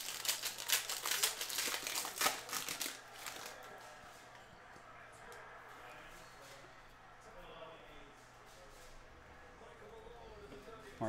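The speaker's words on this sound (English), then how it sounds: "All right, let's rip open this pack." A Panini Mosaic basketball hobby card pack from 2019-20 is torn open, with sharp crinkling foil bursts that are close and loud at first, then quieter shuffling of cards.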